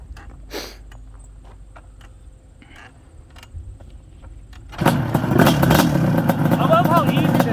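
A quad engine is kick-started with one kick, catching after a few seconds of quiet clatter and then idling loudly and roughly close by, with some speech beneath it.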